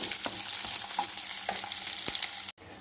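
Onion and green chilies fry in a pan for fenugreek-leaf rice, a steady close sizzle with a few soft stirring scrapes, cut off briefly near the end.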